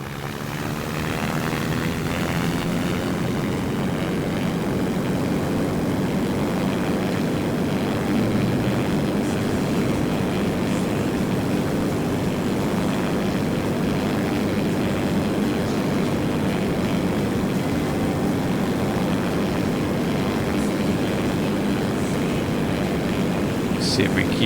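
Propeller plane in the Simple Planes flight game carrying big bombs, a steady loud droning engine hum that holds unbroken from start to finish, with no voices over it.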